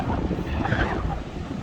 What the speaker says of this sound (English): the rolling waves of the Irish Sea, which are receding now from the beach